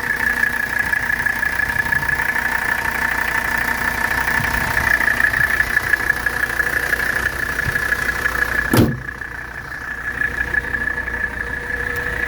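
A 1984 Mercedes 300CD engine idling steadily and loudly up close, with a constant droning tone, then a brief clunk near the end as the running note shifts.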